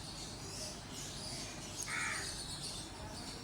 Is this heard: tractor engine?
no